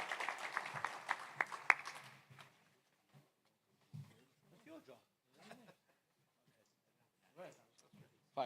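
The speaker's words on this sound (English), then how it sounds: "Give a round of applause for Reb Joey Levy, who's supported the Shir and the Hadran" A crowd applauds at a siyum celebration marking the completion of Tractate Yevamos at BellWorks, New Jersey. The applause is dense for about two seconds, then fades, and scattered voices and talk follow.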